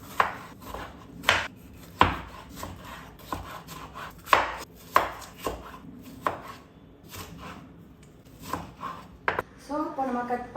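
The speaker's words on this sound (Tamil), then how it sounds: "அதை வந்து பொடியாக நறுக்கி எடுக்க போகிறோம்" A knife chops tomatoes on a cutting board in uneven, crisp strokes close to the listener, followed by a brief voice at the end.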